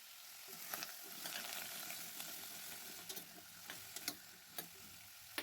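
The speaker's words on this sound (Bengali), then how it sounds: "এবার গাজরগুলো দিয়ে দিলাম ঘিয়ের মধ্যে" Grated carrots sizzle gently in ghee in a pressure cooker pot while being stirred, a soft, steady frying hiss broken by small scraping taps of the spoon against the pot, close and quiet.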